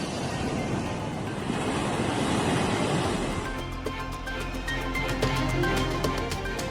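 Sea waves washing on the shore at Tiruchendur, a steady loud roar of surf with wind noise buffeting the microphone throughout, the texture shifting partway through, with no voices.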